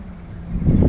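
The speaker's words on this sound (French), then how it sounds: "Pour ce vent qui fait du bien, mais qui est vraiment très très chiant sur les parcours" Wind rushes over the microphone during a mountain bike ride through the countryside on a hot day, a low buffeting roar that swells louder toward the end.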